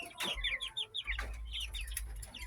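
Farm chickens cluck and chirp in a quick series of short calls, fairly close, with a low rumble of background noise and no talk.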